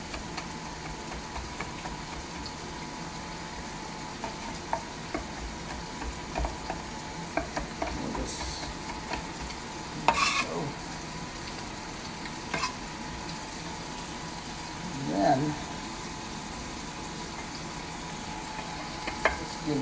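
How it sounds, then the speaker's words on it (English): Chicken and stir-fry vegetables sizzling and being stirred in a cast iron pan, a steady frying hiss broken by occasional scrapes and clatters of the utensil against the pan, close and clear. "Give this a stir"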